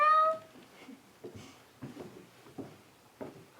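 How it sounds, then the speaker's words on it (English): Young cats meow: one clear, drawn-out meow opens the clip, followed by several short, faint mews and small sounds spaced through a quiet background. "My young cats. What a noise you are making."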